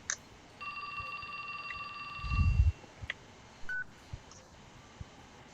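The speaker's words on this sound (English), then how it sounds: "His phone rang." A mobile phone rings in the video game 428: Shibuya Scramble, a sustained electronic tone chord of beeping pitches, moderately loud over a quiet background, followed by a brief thump and a short beep.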